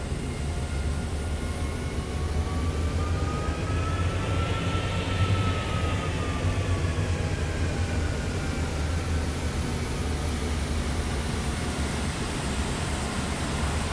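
The jet engines of a FlightFactor A350 airliner in a flight simulator game drone steadily while taxiing, a constant broad roar with a high whine that rises and falls midway.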